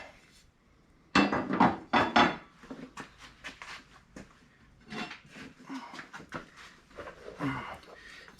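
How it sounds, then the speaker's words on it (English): Hammer beating a metal bracket flat, several sharp clanging strikes in irregular bursts, loud and close, with quieter taps and handling noises in between. "You just beat it with a hammer, whatever you see fit."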